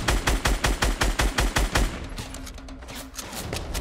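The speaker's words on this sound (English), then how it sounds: "Sounds like a shitty gun." Rapid bursts of gunfire from a weapon in Fortnite Battle Royale, a steady run of evenly spaced loud shots followed by a looser, more scattered volley, with no talk.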